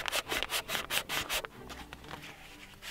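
A wooden canoe paddle is hand sanded, with a quick series of rhythmic rasping strokes up close that then fade into softer, slower rubbing.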